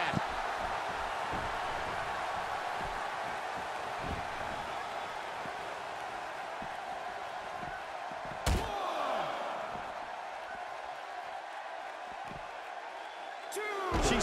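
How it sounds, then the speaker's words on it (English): A wrestler body-slams an opponent in a wrestling video game, one sharp loud impact partway through over a steady crowd-like background, with a second hit near the end. "she slams her down with great force"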